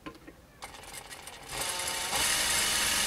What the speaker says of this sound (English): Sewing right along.